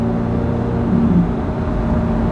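Steady, close engine drone from a 670-horsepower Chevrolet Corvette C8 Z06, loud and even with a brief swell midway and no voices.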